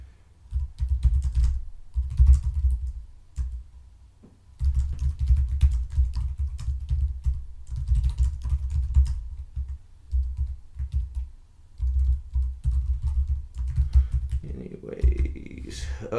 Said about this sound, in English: I'm just gonna type a quick note.